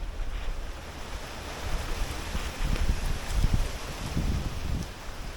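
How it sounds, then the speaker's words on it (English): A gust of wind blows through banana plants during stormy weather, a steady rushing roar that swells in the middle, with wind buffeting the microphone and no voices. "Look at the gust of wind."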